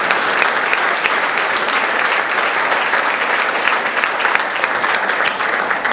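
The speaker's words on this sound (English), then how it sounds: "Look, give her a round of applause" Dense, sustained applause from a keynote audience fills the whole stretch, loud and steady with no letup, the many hands blending into a continuous roar.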